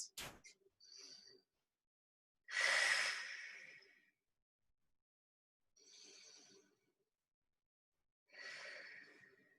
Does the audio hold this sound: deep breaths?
yes